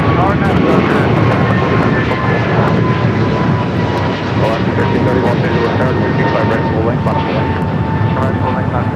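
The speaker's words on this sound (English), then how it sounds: "Again, coming in from Provo, Utah, an Airbus" Airbus A220-300 airliner arriving at LAX from Provo, Utah, its loud, steady jet rumble filling about nine seconds, with someone talking over it.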